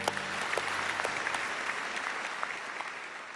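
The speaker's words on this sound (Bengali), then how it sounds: "জোরে একটা হাততালি।" Loud, sustained applause from a studio audience at a Bengali family game show, dense steady clapping filling the whole stretch with no voices over it.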